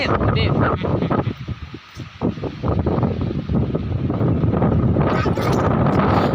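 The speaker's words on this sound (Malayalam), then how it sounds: "ഇവിടെ കാറ്റ് എന്തോ ഭയങ്കര കാറ്റാണ്" Strong wind buffets the microphone with low rumbling gusts while a person talks throughout.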